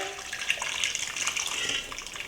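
Liquid pours steadily into a soup pot for Trini cowheel and pigtail soup, a continuous close splashing gush of about two seconds with no talking.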